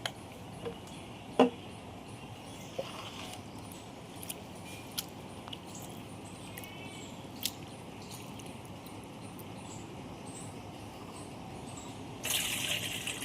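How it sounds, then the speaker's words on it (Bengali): Flattened rice (chira) gets washed by hand in water for Badshahi chirar pulao, soft wet squishing and faint trickles with a few small splashes and clicks, quiet and close, no voices. "এভাবেই আমি 2-3 বার করে ধুয়ে নেব চিড়েটাকে"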